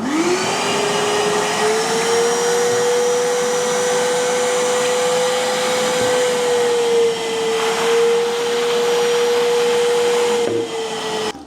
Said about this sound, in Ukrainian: давайте зараз попробуємо через циклон, чи буде качати воду